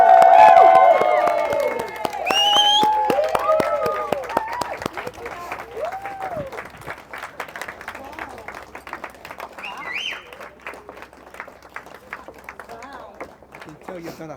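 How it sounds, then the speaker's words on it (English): Wedding guests in the Old Lady Coates Memorial Church in Maybole, Ayrshire applaud the newlyweds, loud at first then tapering into scattered clapping, with voices and a few whistles or calls over it. "Keep that applause going"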